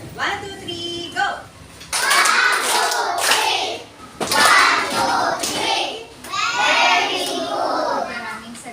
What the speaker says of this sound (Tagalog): bigyan ninyo ang inyong mga sarili ng very good clap